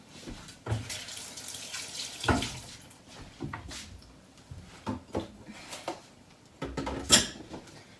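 Tap water runs and splashes in a home kitchen while a spicy Thai dish is being seasoned, with scattered splashes, clinks and a sharp clatter near the end, close and fairly quiet.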